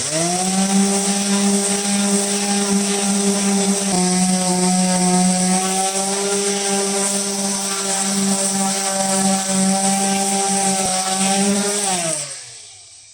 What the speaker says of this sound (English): we're gonna take a random orbital sander and smooth out the top and the bottom just a little bit